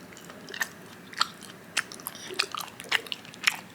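Crunchy peanut-powder mochi being chewed at a night market, about eight sharp crisp bites and crunches at steady intervals, close and clear over quiet background.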